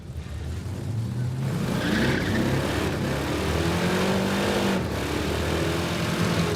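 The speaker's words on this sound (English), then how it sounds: "He is spinning his tires the whole way." A 440-powered Dodge Dart launching down a drag strip with tires spinning, a loud sustained engine roar rising in pitch through a gear change, heard continuously from close by.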